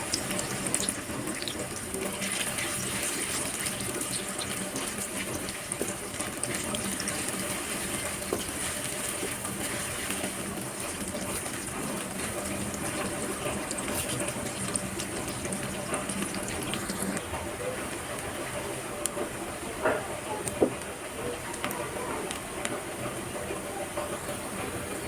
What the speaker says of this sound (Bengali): পেঁয়াজগুলো বেরেস্তার মতো করে ভেজে নিচ্ছি।